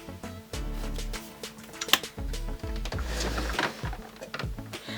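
Drawers in a makeup storage unit slide open with low rumbling scrapes and clunks, several in a row at close range, mixed with light rattling of the contents.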